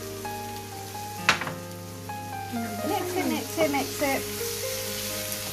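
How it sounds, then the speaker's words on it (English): Garlic sizzling in a hot pan for Asian stir-fry noodles, a steady soft crackling hiss beneath someone talking close by, with a sharp clatter near the start. "Now I'm going to add the garlic."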